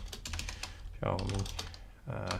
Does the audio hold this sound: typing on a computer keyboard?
yes